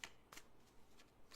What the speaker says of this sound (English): now I'm shuffling and trying to do more shuffling on camera